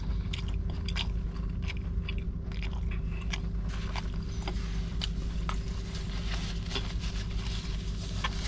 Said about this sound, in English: Get the last bite.